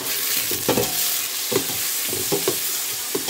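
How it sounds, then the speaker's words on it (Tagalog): Onions sauté in a hot pan with oil, giving a continuous loud sizzle broken by several scraping stirs of a utensil at irregular intervals. "ginigisa ko na tong sibuyas sa maigi"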